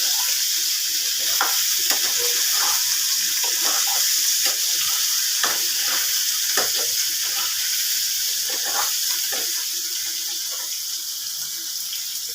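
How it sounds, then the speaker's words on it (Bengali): Potatoes fry with salt, cumin, chilli and grated ginger for jeera aloo, a loud continuous sizzle with repeated spatula scrapes and taps across the pan, fading slightly toward the end. "এখন আলুগুলোর মধ্যে লবণ দিয়ে নাড়তে রাখলাম।"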